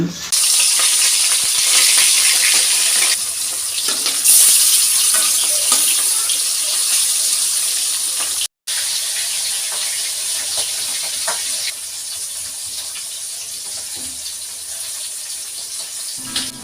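Steady loud sizzling of fish frying in hot oil in a pan fills the whole stretch, with a brief pause midway and faint kitchen clatter.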